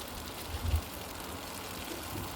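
Chicken pieces frying in oil in a pan over medium heat, a steady, soft crackling hiss with a slight swell midway and no voices.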